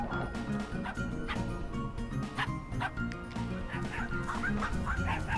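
A cartoon dog in the Finding Paradise video game barks and yips in short repeated bursts over steady game music, with no speech.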